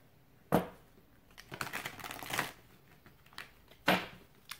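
Soul journey oracle cards being shuffled and drawn, with a sharp flick near the start, a longer rustling shuffle in the middle and another crisp snap near the end, close and fairly quiet with no talk.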